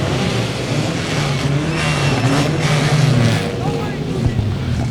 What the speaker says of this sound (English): The four-cylinder engines come to life.